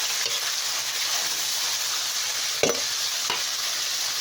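Vegetables such as string beans going into a hot pan, a loud continuous sizzle with a couple of brief clattering stirs near the end.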